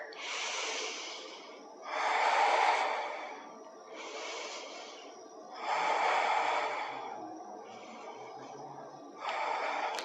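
Slow, deep breathing while holding a yoga high lunge (warrior one): long airy inhales and exhales alternate in about four cycles, close and fairly loud, with a breathy, slightly nasal texture and no speech.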